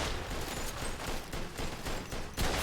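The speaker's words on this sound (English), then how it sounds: "Thank goodness the shotgun has range." Shotgun blasts in the Mafia II video game, a rapid series of loud, close, crackling shots in dense succession with a final heavier blast near the end.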